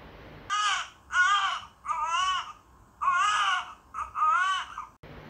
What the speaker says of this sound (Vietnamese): vừa cất tiếng khóc chào đời